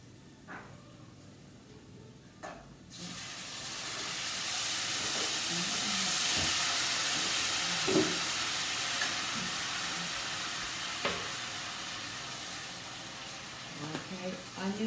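Tomato sauce poured into a hot pan and stirred, a broad steady sizzle swelling up and holding loud, with scattered clinks and scrapes of a utensil and brief voices over it.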